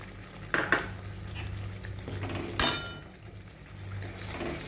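A yogurt spice mixture is stirred into a pan of fried fennel, ginger and green chili for a vegetarian pointed gourd dish, with a steady soft sizzle and a few sharp spoon clanks against the pan.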